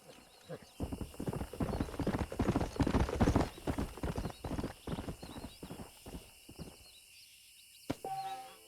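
Horse hooves clip-clopping in the video game Red Dead Redemption, a steady galloping rhythm of close, loud hoofbeats with a brief whinny and game effects near the end.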